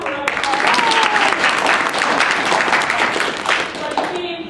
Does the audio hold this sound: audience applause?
yes